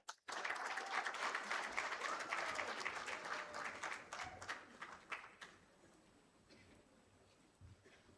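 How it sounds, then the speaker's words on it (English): An audience at a health summit launch applauds Nelson Otuoma as he comes forward, a dense, fairly distant round of clapping that thins into scattered claps and fades out over the last few seconds. "Let's applaud him as he comes forward."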